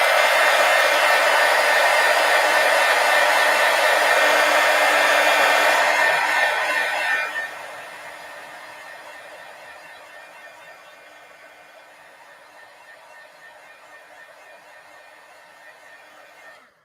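A heat tool or dryer blows loudly and steadily to dry ink on a stamped craft surface, then switches down to a quieter, lower hum that fades over the rest of the clip, with no talk.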